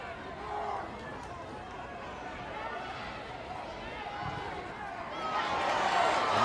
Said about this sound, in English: always a buzz around the crowd when she gets on the ball